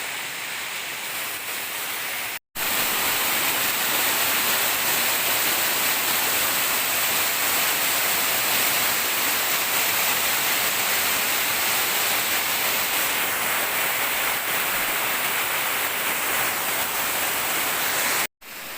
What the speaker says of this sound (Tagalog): ipapakita ko po sa inyo yung pababa at pagbulusok ng tubig